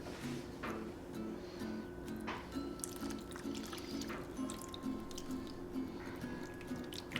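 Liquid is poured over a layered dish of scalloped potatoes, a soft trickling with scattered drips and squishy splashes, fairly quiet and close, with no talking.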